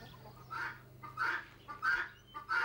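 Farm hens clucking in a series of about five short repeated calls at an even rhythm, close and fairly clear over a low steady hum.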